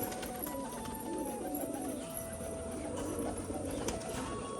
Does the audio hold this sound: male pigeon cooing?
yes